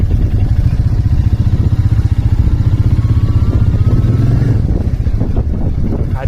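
Motorcycle engine droning steadily during a Sunday ride, a continuous loud rumble with low harmonic hum and some clatter, no voices.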